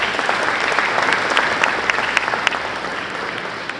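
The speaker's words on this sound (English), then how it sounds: "let's give Dean a big round of applause" Steady, dense applause from a large crowd fills a high school championship ring ceremony hall, loud and continuous with scattered sharper claps throughout.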